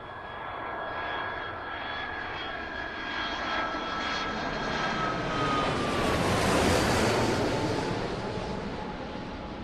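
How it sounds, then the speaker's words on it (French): An Aérotrain guided hover vehicle running at high speed produces a loud, steady turbine-like roar with whining tones that swell and then pass, continuing throughout without any voices. "on a voulu montrer qu'on pouvait aller en vitesse avec l'aérotrain"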